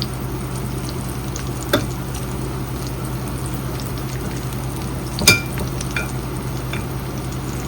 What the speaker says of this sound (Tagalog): And then I'll just fry.